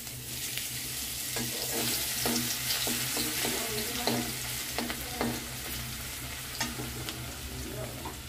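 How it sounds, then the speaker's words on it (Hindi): Garlic paste fries with cumin in a pan, giving a steady close sizzle, with a spoon repeatedly scraping and stirring in light, irregular knocks. "अब इसमें डालेंगे लहसुन पेस्ट।"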